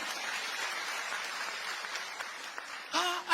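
A congregation claps hands in praise, a soft, distant wash of applause running steadily before louder, closer sounds at the end.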